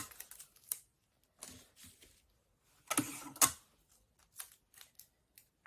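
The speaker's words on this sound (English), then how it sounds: "I'm just going to tape it down really good." Tape is pulled and pressed onto a travel bag for sublimation, giving scattered crackling and sharp tearing bursts with quiet gaps, close by and without talk.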